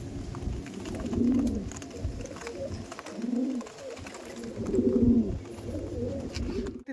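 Andhra pigeons coo nearby in a few soft, repeated bursts, each a low rolling call rising and fading, with quiet rustling between.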